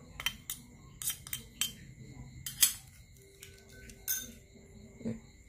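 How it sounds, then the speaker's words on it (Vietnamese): A spoon clinks against a bowl while chili powder and seasonings are stirred to dissolve, a few close, sharp metallic taps scattered irregularly with quiet pauses between them. "Giờ các bạn sẽ quậy cho nó tan hết tất cả các gia vị này ha."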